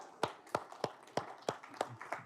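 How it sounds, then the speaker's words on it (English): Seven sharp claps spaced at a fairly even pace, sparse rather than full applause, like a few students clapping in a university classroom. "Clap for each other."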